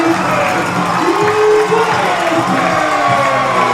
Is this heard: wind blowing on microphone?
no